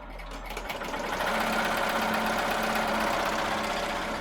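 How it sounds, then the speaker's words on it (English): An embroidery machine stitches satin stitches for an XOXO and lips appliqué design, starting up and then running in a steady, fast, loud mechanical whir throughout. "the XOXO, the satin stitches are gonna stitch first"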